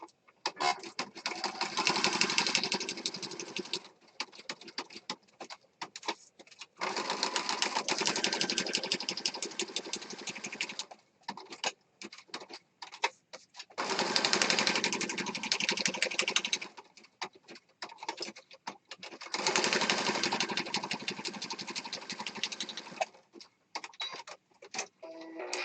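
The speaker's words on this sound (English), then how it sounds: "I'm going to go ahead and just sew" A sewing machine stitches through a mixed media collage piece in four long, steady bursts, each several seconds long, separated by short pauses filled with faint handling clicks, close and fairly loud with no talking.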